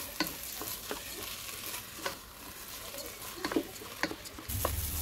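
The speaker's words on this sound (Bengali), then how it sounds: "তো এটা এখন সুন্দর করে একটু ভাজা নেব সব কিছু একসাথে" Eggs, onion and broken rice with spices frying together in a pan, steady close sizzle with repeated scraping stir strokes at an uneven rhythm, a heavier rumble near the end.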